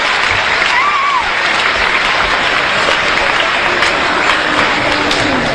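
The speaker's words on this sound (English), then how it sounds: "Give him a round of applause, guys." A school audience of students applauds steadily for a motivational speaker at a school assembly, loud, dense clapping throughout with crowd murmur and faint voices.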